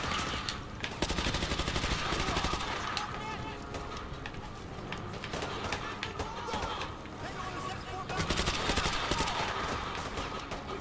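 Dense, continuous gunfire and bursts of automatic weapons from a shooting video game, loud and close, rattling almost without pause across the whole stretch.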